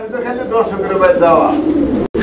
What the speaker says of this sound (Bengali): এখানে এক জোড়া কবুতর আছে